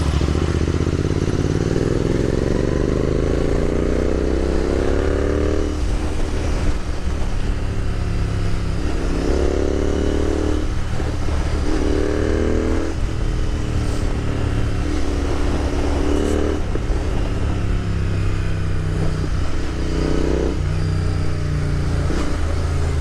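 A Royal Enfield Continental GT650 motorcycle riding at speed, its engine droning loud and close throughout, rising and falling in pitch through gear changes, with a constant roar of wind mixed in.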